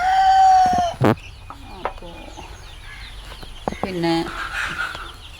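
Black and white chickens cluck close by, starting with a loud drawn-out call and followed by scattered short clucks and squawks, while someone talks over them.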